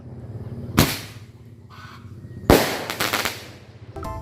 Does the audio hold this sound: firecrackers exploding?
yes